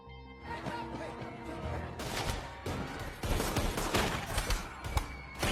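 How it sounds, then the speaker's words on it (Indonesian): A police shootout in an action film: dense bursts of rapid gunfire crackle in overlapping volleys, growing louder and heavier after the first two seconds, with crashing impacts mixed in. "kelompok Kuan kini harus baku tembak dengan polisi untuk membawa Mei"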